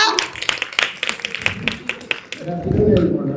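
A community meeting audience claps in quick, uneven bursts, fairly close, while voices talk over the applause before it fades into chatter.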